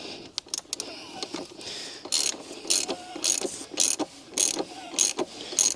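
Ratchet working an oil filter housing tight on its O-ring during an oil change on a BMW 330d E91, with bursts of rapid clicking pawl strokes repeated in rhythm, close and fairly loud.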